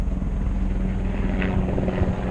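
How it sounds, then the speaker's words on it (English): Black Hawk helicopter flying over a wildfire during a water-dropping firefighting operation, a steady low rotor drone heard from a distance throughout. "Yeah, that's the Blackhawk airframe."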